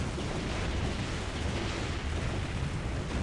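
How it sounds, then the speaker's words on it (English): Explosions in the real-time strategy game Dawn of War Ultimate Apocalypse, set in a large 4 vs 4 battle, make a dense rumbling roar with crackling bursts that goes on loudly throughout and is heard alone. "Lots of explosions."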